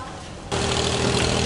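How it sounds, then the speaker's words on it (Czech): Boat engines start up as boats head out to sea off Phi Phi island, Thailand: a steady broadband motor drone begins abruptly partway through and holds at a constant level. "První lodě už tam takhle vyjíždějí na moře."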